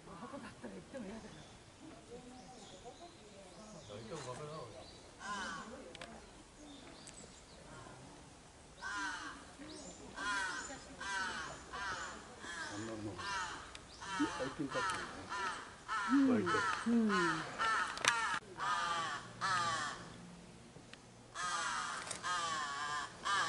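Several crows caw repeatedly in Kamakura, Japan, some near and some farther off, their harsh calls overlapping through a quiet outdoor background.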